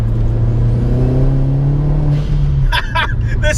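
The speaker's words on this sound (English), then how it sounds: "the sound of that turbocharger up front, it sounds so good" Hybrid-turbo SEAT Leon Cupra R under boost, its turbocharger whirring over a steady, loud engine drone. A few short bursts of speech break in near the end.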